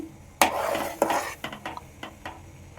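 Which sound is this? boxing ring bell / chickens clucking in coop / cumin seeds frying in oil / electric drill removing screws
cumin seeds frying in oil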